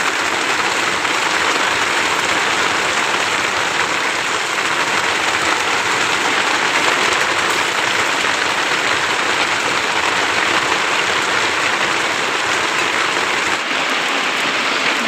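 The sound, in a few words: rain falling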